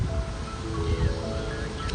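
Wind gusting outdoors, a steady close rumble of blustery air buffeting the microphone with some rustling throughout.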